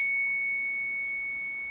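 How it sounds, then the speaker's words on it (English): A small bell struck once to open a yoga class leaves a pure, bright ringing tone that decays slowly across the whole short moment, alone in a quiet room. "in many yoga classes, they start with, let's say, a little bell."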